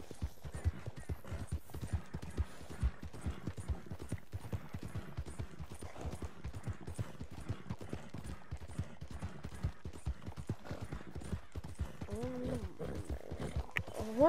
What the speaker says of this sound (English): Horse riding in first person is trash.